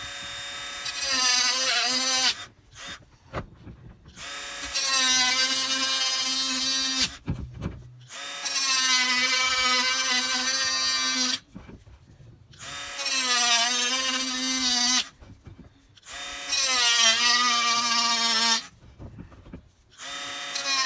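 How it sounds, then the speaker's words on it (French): A small Bosch angle grinder cuts into a house wall during renovation, five loud sustained bursts of several seconds each, whining with a pitch that dips under load, separated by short pauses. "je prends ma petite meuleuse Bosch là, que j'ai acheté. Et puis je vais tailler comme ça."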